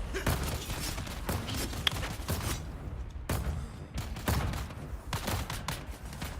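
Video game turret gunfire crackles in dense, continuous bursts with sharp individual shots over a noisy backdrop, brief lulls between volleys, loud and close.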